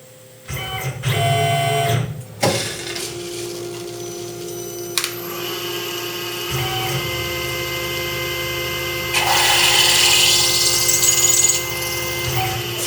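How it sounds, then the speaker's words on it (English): A machine drills out the pivot hole of a knife blade in a shop, a steady, high mechanical whine that runs for several seconds with shifting tone and louder grinding near the end, close and with no talking. "what that guy's going to do is drill out the pivot hole"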